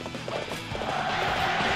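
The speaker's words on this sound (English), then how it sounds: "Horse! You need the horse." A horse gallops through a Dynasty Warriors 7 battle, its hoofbeats clip-clopping steadily under a dense wash of game noise and battlefield din.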